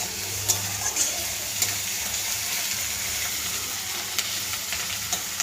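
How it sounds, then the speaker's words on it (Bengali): Puti fish chorchori frying in oil in a home kitchen, a steady sizzle and crackle throughout with occasional sharper pops, close and fairly loud, with no voices. "এই যে ভাজা হচ্ছে সুন্দর"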